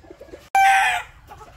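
A tornado hatch gamefowl rooster lets out one loud, close cluck-crow burst of about half a second, set against quiet background noise.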